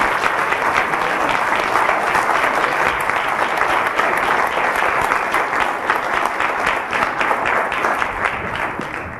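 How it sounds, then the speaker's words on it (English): An audience at an evening lecture gives the speakers sustained applause, a dense, loud wash of clapping from many hands that holds steady for the full stretch and only slightly eases at the end. "Let's give a round of applause for our speakers."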